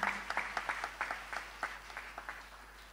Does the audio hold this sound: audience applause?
yes